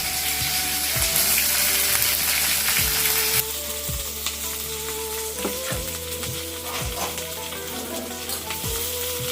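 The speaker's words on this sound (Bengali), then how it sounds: "আজকে অনেক দিন পর সরিষার তেল, পেঁয়াজ, রসুন দিয়ে আর কি সবজি রান্না করছি" Vegetables fry loudly in hot mustard oil with onion and garlic, a steady close sizzle with recurring scrapes and stirring clatter from the pan throughout.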